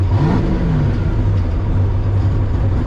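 Turbocharged Cutlass with a 5.3 engine accelerates hard in low gear on a test drive: a loud, steady engine drone with a rising whir, heard from inside the car, with no one talking.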